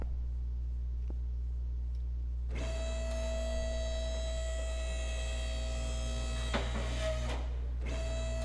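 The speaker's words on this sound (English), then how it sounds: "Let's get this thing up on a lift." A car lift raising a car in the Car Mechanic Simulator 2021 video game, a steady motorized whine starting after a low hum, holding level, then stopping with a brief restart near the end, with no talking.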